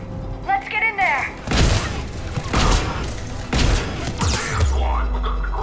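Gunfire at a checkpoint in the Mass Effect 3 video game, heavy booming bursts and crackling shots over a rumbling din, with voices talking and a higher warbling tone at the start.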